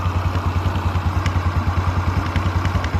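Rapid, regular mechanical ticking and thumping of a running engine heard through a mechanic's stethoscope, up close and loud, with a steady rhythmic pulse and no talking.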